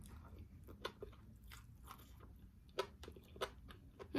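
Crunchy bites into spicy grilled fish with rice, a handful of sharp crisp crunches and soft chewing at close range, quiet and intermittent against a low background.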